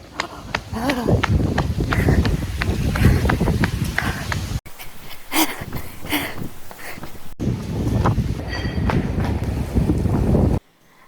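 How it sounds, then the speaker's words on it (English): Strong gusts buffet a microphone outdoors, a loud, continuous rumbling roar with brief breaks, while someone speaks over it. "It's so windy today."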